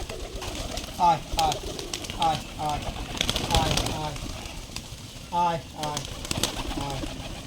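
Giribaj pigeons gathering for a feed of wheat, rice and maize on a farm coo repeatedly nearby, with several distinct rolling coos rising over faint background sounds.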